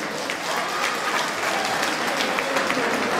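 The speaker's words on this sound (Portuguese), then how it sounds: "Vamos lá, uma grande salva de palmas para eles, obrigado." A big round of applause from an event audience at a university gathering in Cergy-Pontoise, a loud, continuous wash of many clapping hands sustained evenly throughout.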